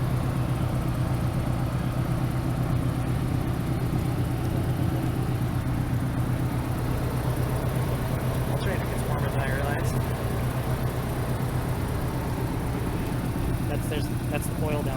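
A Mazda FD3S RX-7's turbocharged rotary engine idles with hot turbos, a steady, close, even drone that holds throughout, with a voice talking over it.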